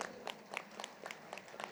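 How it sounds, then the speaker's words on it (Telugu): Brief, faint scattered clapping from an audience at a spiritual gathering, a handful of uneven claps heard at a distance against low room noise. "చప్పట్లు కొట్టండి అందరూ."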